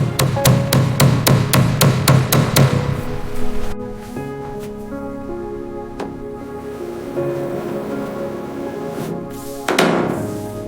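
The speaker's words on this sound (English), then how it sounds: "This dent is pretty deep. I'll get the hammer." A hammer taps rapidly on a deep dent in the rusty metal body of a Mercedes-Benz 300SL Gullwing in a quick, even series, then pauses with ringing tones before a few more scattered strikes.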